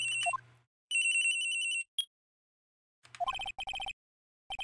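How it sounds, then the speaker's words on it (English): A cell phone ringtone from the video game Phoenix Wright: Trials and Tribulations plays in bright repeating electronic bursts, with a short sustained ring phrase, a brief gap, then a quicker pulsing pattern of rings. "At around 10:30, I received a call on my cell phone."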